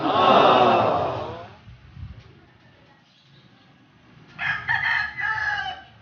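A rooster crows loudly up close, then after a quiet pause a second, fainter crow rises from farther off.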